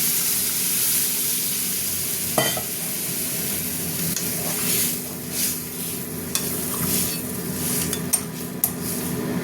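Mustard paste and water added to a fish curry with potatoes simmering in a pan, a steady bubbling sizzle close up with occasional clinks and scrapes of a spoon against the pan, no talking.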